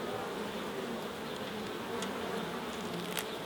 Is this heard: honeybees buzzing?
yes